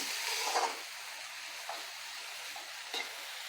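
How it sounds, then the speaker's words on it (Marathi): Matki sprouts sautéed with spices in a pan give a continuous close hiss of frying. A few brief scrapes of stirring break through, with no talking. "आता आपल्याला मटकीसुद्धा छान या मसाल्यांबरोबर परतून घ्यायची आहे थोडीशी"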